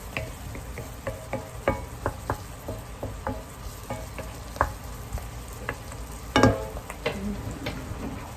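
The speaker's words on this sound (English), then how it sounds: "all we did was added our butter and onion" Butter and onion sizzle and fry in a pan, a steady close crackle with scattered sharp pops and ticks running throughout, no talking.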